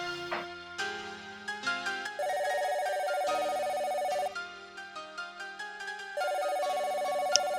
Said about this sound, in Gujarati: અરે યોગેશનો ફોન